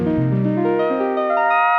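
A custom Prophet synthesizer patch built from two triangle-wave oscillators with a slight LFO and a noise filter plays a short sequence of sustained, harmonically rich tones that step between pitches, clear and alone.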